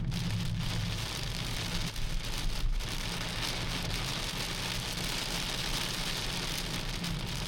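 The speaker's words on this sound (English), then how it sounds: "Yeah, it's raining pretty hard." Heavy rain during a thunderstorm pours steadily and densely on a surface in Madinah, Saudi Arabia, a constant close hiss with no voices.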